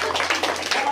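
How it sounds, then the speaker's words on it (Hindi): Hand clapping during a playful magic trick with a child: quick, close claps repeating in a steady patter for under a second. "बच्चा, चुर बोले तो ताली बजा दिया करो चुर।"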